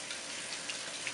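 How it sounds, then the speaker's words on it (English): Cold tap water runs steadily over a brined Thanksgiving turkey being rinsed, a continuous hissing splash with no talking. "Running under cold water"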